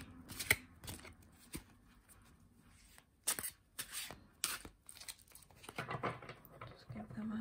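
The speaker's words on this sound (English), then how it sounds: "With the cards being done on linen cardstock, they shuffle wonderfully." Linen-cardstock Jean Dodal Tarot de Marseille cards being shuffled and riffled, giving repeated close papery flutters and soft slaps in several bursts, with quiet handling noise between them.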